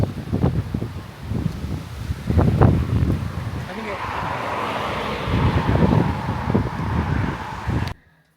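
Strong wind gusts roar and buffet the microphone outdoors, a steady broadband rush that swells and eases, with occasional voices and passing traffic mixed in, ending abruptly.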